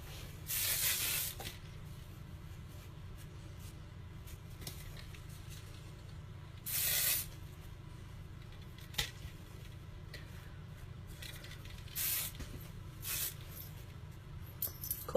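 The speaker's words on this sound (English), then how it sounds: "Today I'm just going to use my light hold hairspray." Light hold hairspray sprayed onto hair from an aerosol can, several short hissing bursts separated by quiet pauses, close and clear.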